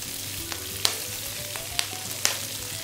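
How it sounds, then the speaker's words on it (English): Brussels sprouts and tofu frying in a pan give a steady, close sizzle, broken by a few sharp pops and crackles as the sprouts hit the hot surface. "I'm gonna add the Brussels sprouts right to the pan."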